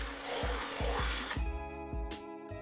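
A power drill whirs steadily for over a second while drilling an extra hole for LED wiring, then pauses and gives a few shorter bursts, close up and fairly loud.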